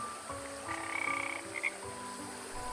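Frogs croak in a swamp in the Atchafalaya Basin, a rhythmic pulsing chorus at moderate distance, with thin insect chirps woven through and a soft ambient backdrop.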